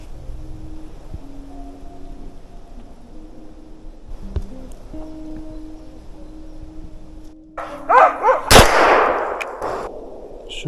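A sharp gunshot rings out outdoors during a May bear hunt, with a crack and rolling echo, followed by rustling and a few fainter knocks against a quiet background.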